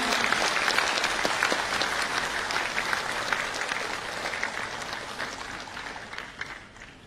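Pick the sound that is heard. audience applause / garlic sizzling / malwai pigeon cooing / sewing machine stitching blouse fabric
audience applause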